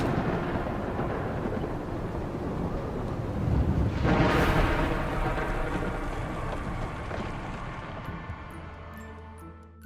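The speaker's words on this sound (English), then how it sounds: "Unfortunately, the balloon is struck by lightning and crashes" A lightning strike and rolling thunder in the horror video game Little Nightmares, where a balloon is hit during a storm. A loud crack arrives midway and swells over steady rumbling rain-like noise, then slowly fades.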